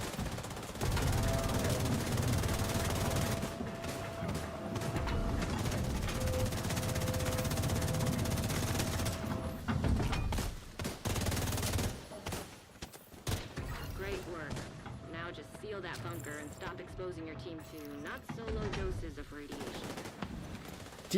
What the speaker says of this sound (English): somebody's running the 360 fire turret